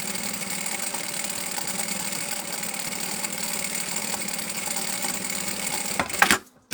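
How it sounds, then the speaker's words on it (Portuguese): A sewing machine stitches outer fabric to foam along the edge for a hen-shaped egg holder, running in a steady close whir that stops abruptly near the end. "Vamos costurar a parte exterior ao foame, à bordinha"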